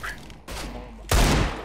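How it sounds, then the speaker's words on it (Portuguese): Desert Eagle pistol shots in the Counter-Strike video game, a few loud close bursts with the last one heaviest, and no talking. "Vou tentar dar um tiro de Eagle."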